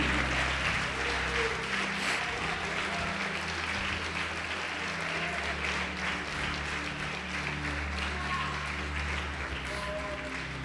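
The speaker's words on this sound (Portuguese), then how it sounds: "Você pode aplaudir o Senhor Jesus por isto?" A church congregation applauds together, a broad steady wash of clapping filling the hall, with a few scattered voices and faint instrumental tones underneath.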